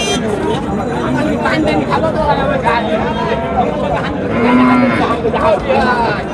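A cow moos loudly once amid a busy cattle market selling pregnant cows in Bangladesh, with constant crowd chatter and voices all around.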